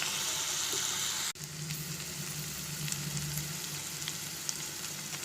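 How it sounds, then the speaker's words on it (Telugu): Potato pieces sizzle steadily in hot oil in a home kitchen pan, a continuous close frying hiss after a brief knock near the start, with no talking. "ఆలుగడ్డలు వేసిన తర్వాత అవి కొంచెం వేగిన తర్వాత ఉప్పు వేస్తాను ఇప్పుడు ఏం అవి అలాగే నూనెకి వేగితే మంచిది"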